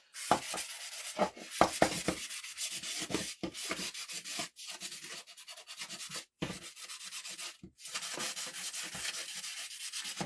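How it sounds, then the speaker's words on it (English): Steady abrasive rubbing of a sanding sponge across a surface, in repeated back-and-forth strokes with brief pauses, close and fairly loud, no talking. "So all I'm just doing is taking my sponge, my sanding sponge."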